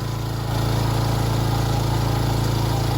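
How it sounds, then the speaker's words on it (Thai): A small engine revs hard and holds a loud, steady, buzzing drone close by after a slight step up at the start. No one speaks. "เร่งเครื่องโหดจังวะ"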